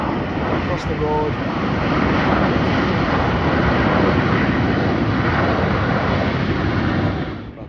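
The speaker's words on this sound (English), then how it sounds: "We are going to see a plane land." A jet airliner landing, its loud engine roar swelling and holding steady, then fading as it passes, with wind buffeting the microphone, at Gibraltar.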